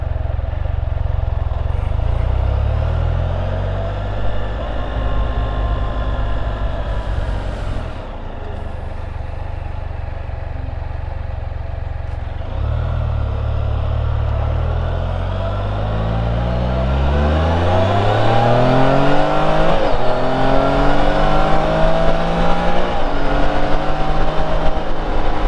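Can-Am Spyder three-wheel motorcycle with a 6-speed manual gearbox, its engine droning steadily and loud up close, then revving and climbing through gear shifts with rising pitch sweeps near the end.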